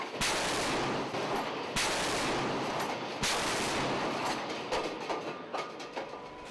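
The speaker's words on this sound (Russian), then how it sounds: "пушка, учитывая скорость крейсера и волнение на море, производит выстрел" Three loud, booming shots from the AK-130 naval gun aboard the cruiser Pyotr Velikiy ring out at sea, evenly spaced about a second and a half apart, each followed by a long rumbling decay.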